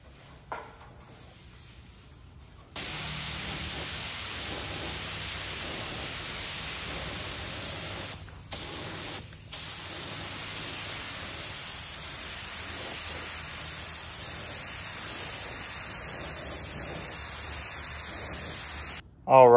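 A spray gun laying primer onto a car bumper, a steady, close hiss that starts abruptly after a short quiet lead-in and runs continuously with two brief breaks between passes.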